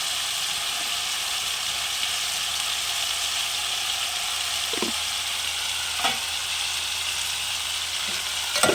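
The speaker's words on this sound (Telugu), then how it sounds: "ఇప్పుడైతే మునక్కాయలు అయితే ఇలా వేసుకోవాలి" Drumstick pods go into a tomato curry cooking in a pan, which keeps up a steady, close sizzle throughout, broken by a couple of faint knocks, with no one speaking.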